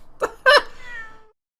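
Wagahai the cat in an Ace Attorney video game lets out a short, clear meow, two quick bursts with a ringing tail that fades into silence.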